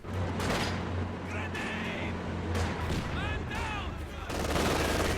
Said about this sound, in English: the Maxim suppresses both of them